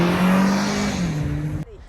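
Internal combustion engine car accelerating hard from a standstill in a takeoff test, a loud engine roar rising in pitch through a gear shift before cutting off abruptly after under two seconds.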